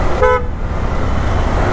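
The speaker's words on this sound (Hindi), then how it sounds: "नो हॉर्न, तुला हॉर्नच मारेल अजून." A short car horn toot rises above a steady rumble of road traffic and engine noise, close and fairly loud, while a vehicle moves along a city street.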